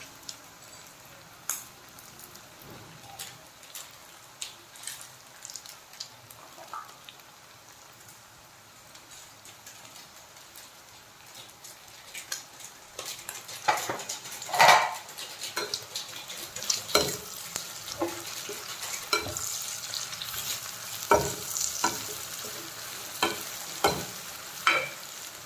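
Pork dry-frying in a pan with turmeric just added, stirred in quiet scrapes and light sizzling that grow louder and busier in the second half, with no one talking.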